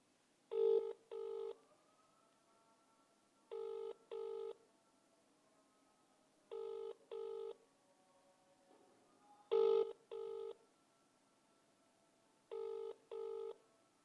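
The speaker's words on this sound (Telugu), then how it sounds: "తర్వాత ఈ పెట్టుబడులు పెట్టిన వ్యక్తికి ఫోన్ చేద్దాం." An outgoing phone call rings unanswered. A faint double-pulse ringback tone repeats about every three seconds over near silence.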